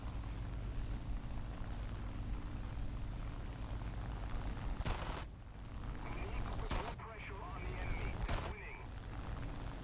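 Aircraft tail gun firing in the War Thunder flight game, a few short bursts of rapid gunfire cutting through the constant roar of an engine, fairly distant.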